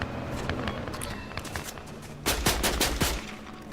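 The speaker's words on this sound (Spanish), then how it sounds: "Y hay disparos." Gunfire in the video game Fortnite rings out in rapid bursts of sharp cracks, louder toward the end, mixed with footsteps and faint background noise.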